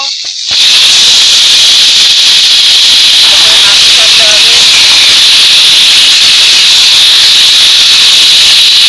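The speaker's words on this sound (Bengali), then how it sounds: "ম্যাগনেট করা চিকেনটা দিয়ে দেব" Marinated chicken hitting a hot pan in a traditional Bengali home kitchen, a sudden loud, steady sizzle that swells after a brief clatter and holds as a continuous bright hiss close to the listener.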